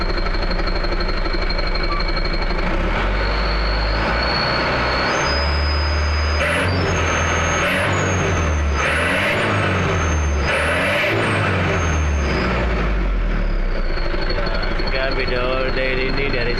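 A truck fitted with an HKS aftermarket exhaust is revved repeatedly, its deep engine note rising and falling in several loud, close pulses over a steady idle, with someone talking and a high whine in the background.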